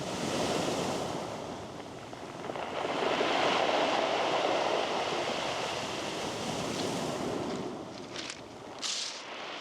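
Waves wash steadily onto a beach of pink rounded pebbles in Cape Breton Highlands, Nova Scotia, a continuous rushing surge that swells and recedes, with faint clattering near the end.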